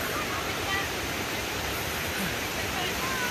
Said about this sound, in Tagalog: Ayan na po, nakita ko na yung falls.